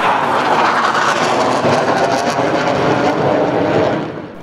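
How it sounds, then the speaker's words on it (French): A fighter jet makes a quick low pass over a road where shepherds are herding sheep, a loud continuous roar that fills the whole stretch and fades only at the end. "Malgré le passage éclair d'un avion de chasse qui a quelque peu perturbé les moutons"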